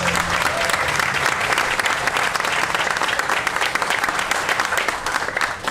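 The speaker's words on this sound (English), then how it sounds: "Can we give them a round of applause?" Audience applause at an outdoor tent event for a downtown micro forest planting, a dense steady wash of many hands clapping, loud and continuous throughout with no talk over it.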